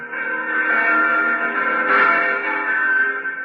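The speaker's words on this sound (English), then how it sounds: "There are the church bells." Church bells ringing on Christmas Eve from the whitewashed church with a tall steeple in an Alpine village, a steady, sustained reverberant peal with layered tones and no voices.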